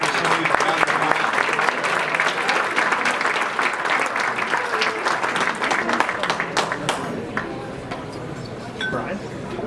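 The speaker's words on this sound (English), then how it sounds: "Round of applause." An audience applauds at a Merchandiser of the Year awards presentation, sustained dense clapping that slowly thins out, with voices and a few clinks audible underneath.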